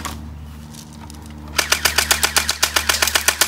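Rapid airsoft rifle shots on a backyard airsoft obstacle course: a steady run of about fifteen sharp, evenly spaced cracks after a quiet stretch with low hum, loud and close.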